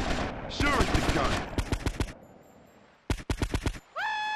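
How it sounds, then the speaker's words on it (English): Rapid bursts of gunfire from GTA Vice City Stories, loud and close, come in two clusters of quick shots separated by a lull, with some tonal game sounds alongside. "Sure, it's the gun."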